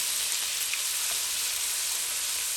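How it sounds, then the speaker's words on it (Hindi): Ginger garlic paste fries in a pan with a soft, even sizzle, moderately quiet and close, lasting a few seconds without talk. "इसको भी हम हल्का सा फ्राई कर लेते हैं"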